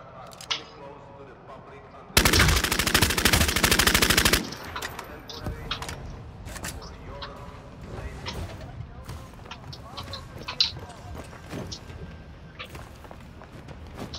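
A burst of rapid automatic gunfire rings out loudly for about two seconds in a vampire battle royale video game, then scattered single shots and footsteps follow at lower level, with someone talking over parts of it.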